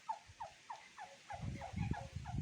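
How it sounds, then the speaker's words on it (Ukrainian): A turkey gobbling in a fast rattling run of repeated notes, moderately close, with some low rustling noise joining partway through. "Це індик Федя."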